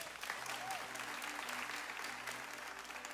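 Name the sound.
congregation applauding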